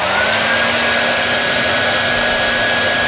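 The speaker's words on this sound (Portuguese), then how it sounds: "Um secador de cabelo." A hair dryer runs continuously with a steady, loud whirring hiss and a constant motor whine that holds level from start to finish, heard on its own.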